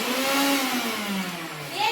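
A mixer grinder (mixie) runs steadily while chicken mandi masala is prepared: a loud, close, continuous motor whine whose pitch sags slightly over a couple of seconds.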